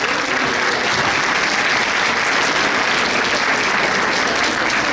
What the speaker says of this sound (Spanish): Un buen aplauso para él